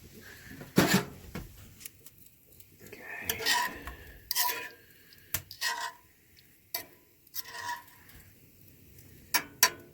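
A metal pan is set down and shifted on a camp stove in a winter lean-to, with scattered clanks, scrapes and clatters separated by quiet gaps, close and fairly soft.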